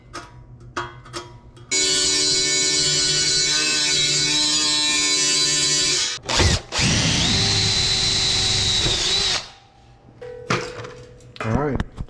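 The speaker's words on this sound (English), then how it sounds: "Alright, so we get our holes drilled." Power drill boring holes through metal tabs during a fat-tire motorized bicycle board track racer build; a loud sustained whine runs about seven seconds with a brief pause, then fades, with short quieter tool noises before and after.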